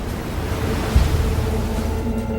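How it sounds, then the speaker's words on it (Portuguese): Stormy sea waves crash over a ship's deck in a steady, loud roar of surging water and wind, with no voices. "A água está invadindo o deck e as coisas estão se quebrando e o caos impera."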